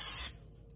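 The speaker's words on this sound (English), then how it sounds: "So you're going to spray it with canola oil." A short, loud burst of canola oil cooking spray hisses onto a microwave platter, then cuts off abruptly, leaving quiet room tone.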